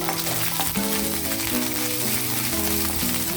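Steady, close sizzling of cauliflower with green chillies and curry leaves frying in oil in a pan, a continuous crackling hiss that holds at an even level throughout.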